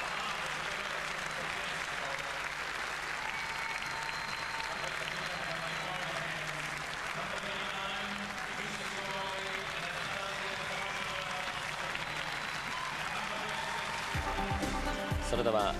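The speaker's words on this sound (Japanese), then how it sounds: "大きな拍手歓声が起こっています。" A large arena crowd in Melbourne's Vodafone Arena applauds and cheers after the final dances of a ten-dance ballroom championship, a steady, distant wash of clapping heard throughout with a commentator's voice over it.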